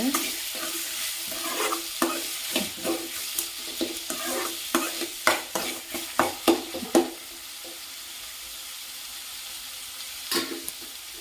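Tomatoes with rock salt sautéing in a pan: continuous sizzle with a run of quick, rhythmic spatula scrapes and knocks, then quieter frying before one last stir, close and without talk.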